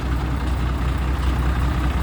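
A 210-horsepower tractor engine pulling with a chain at a pond-filling earthworks site, a loud, steady, low diesel rumble holding constant throughout with no voices.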